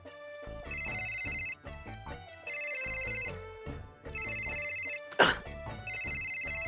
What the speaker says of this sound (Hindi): आपका मोबाइल फोन है, उस पे किसी का फोन आ रहा है।